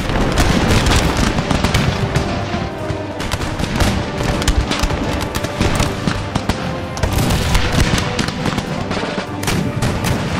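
Massed musket volleys from infantry lines in the strategy game Empire Total War, a dense, continuous crackle of overlapping gunfire and booms filling the whole stretch at loud, steady intensity with no talk.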